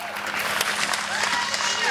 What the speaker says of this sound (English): Give a general round of applause, ladies and gents.